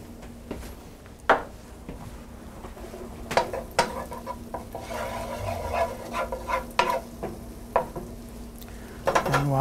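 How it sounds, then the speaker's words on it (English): Butter melting in a skillet gives a soft, low sizzle, punctuated by sharp clanks and scrapes of utensils against the pan, with no talking. "Going to melt about 2 good tablespoons of butter in this pan."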